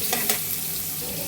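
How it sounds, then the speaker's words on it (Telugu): Bitter gourd pieces sizzle in hot oil with a steady crackling hiss, close and continuous, with faint stirring clinks over a short stretch. "ఆయిల్లో కొంచెం ఫ్రై చేసుకోవాలి"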